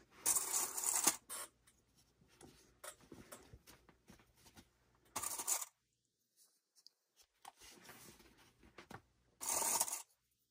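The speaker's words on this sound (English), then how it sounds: "I'm going to need the heavier duty clips to hold this in." Heavy-duty sewing clips snap one by one around the edge of a fabric bucket bag with a recessed zipper: scattered close clicks and rustles, with three louder bursts of handling noise and quiet gaps between them.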